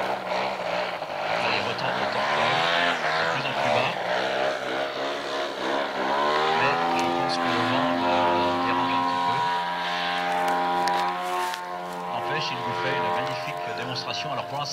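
A radio-controlled model biplane flies at a model aircraft meet in St Macaire, attempting a crosswind landing, its engine whine steady and tonal with pitch shifts as it maneuvers, prominent throughout.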